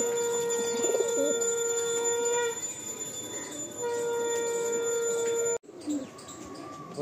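Pigeons coo steadily in a pigeon loft in Salt Lake, a close, continuous murmur of birds with a steady tonal hum underneath and a brief dropout near the end.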